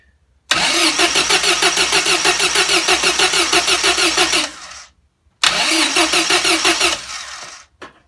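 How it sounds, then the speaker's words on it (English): Car engine being turned over by a new PowerLite RAC468 gear starter motor on a battery that has not been charged in a while, two loud bursts of fast rhythmic cranking separated by a brief pause, recorded close. "I'm just going to disconnect the cord so I can turn it over so you can see the difference."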